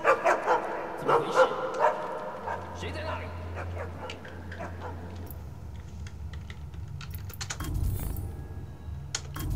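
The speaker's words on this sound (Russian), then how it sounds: "Если вы попадете с поля внимания сторожевого пса, он начнет лаять и привлечет внимание всех стражников в округе." A guard dog barks in the stealth video game Assassin's Creed Chronicles China: several sharp barks in the opening two seconds, then a steady in-game hum with scattered clicks, while someone talks over it.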